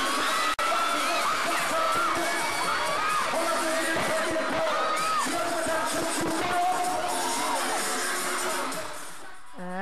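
Fans scream and cheer loudly at a fan meeting concert in Thailand, a dense crowd of high-pitched shrieks and whoops with a sharp bang near the start, fading slightly at the end.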